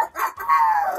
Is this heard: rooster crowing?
yes